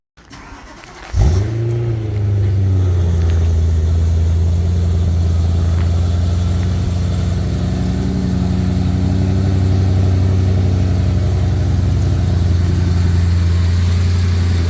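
A BMW M3 E93 with a custom valved exhaust starts up and settles into a loud, steady idle: a deep, even rumble held close by for the rest of the clip, with no voices over it.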